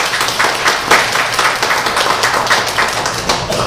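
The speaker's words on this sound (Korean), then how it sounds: "우리 하나님께 박수 한번 주시죠." A church congregation in Seoul applauds together, producing loud, dense clapping that holds steady and close throughout with no voices over it.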